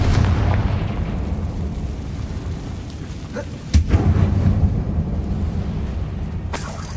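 A Confringo fire spell explodes in Hogwarts Legacy: a sharp, loud blast cracks out midway over a constant low roar, and another brief crack follows near the end.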